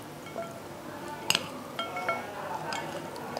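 Utensils clink against a dish while keema noodles are being mixed, giving a few sharp metallic taps and scrapes spread through the stretch over a faint room background, with no talking.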